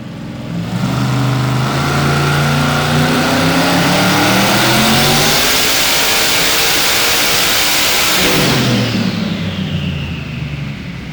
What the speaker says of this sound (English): twin-turbo, methanol-sucking R8 wagon